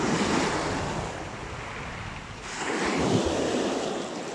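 Waves wash onto a shingle beach at St Leonards on Sea, Bulverhythe, a steady close roar of surf with wind buffeting the microphone and a fresh surge building about halfway through.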